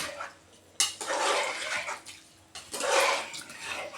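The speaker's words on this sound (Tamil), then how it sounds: "மறுபடியும் 2வது சொம்பு தண்ணி ஊற்றியாச்சு" Water poured from a vessel into a cooking pot for brinji rice, a steady splashing gush in two bursts, close and fairly loud with no talking.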